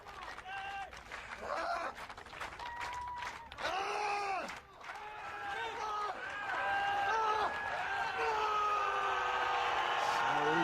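A crowd at the 1992 World's Strongest Man competition cheers and roars, building from scattered shouts into loud sustained cheering while a commentator speaks over it.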